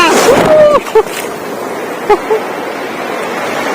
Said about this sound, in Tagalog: Dami, ganda ng alon dito!